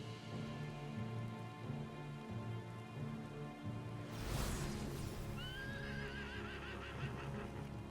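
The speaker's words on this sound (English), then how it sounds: "I love Odin's horse." Odin's horse in Final Fantasy XVI lets out a loud whinny over hoofbeats, with rain falling and a steady musical score underneath; the neigh rises sharply mid-clip and trails off in wavering cries.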